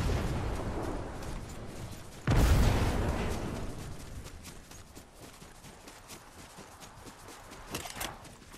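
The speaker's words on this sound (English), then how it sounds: "Gunshots in Athens" A loud, booming gunshot blast bursts out in a Fortnite match, followed by quieter scattered shots and footstep-like taps trailing off over several seconds.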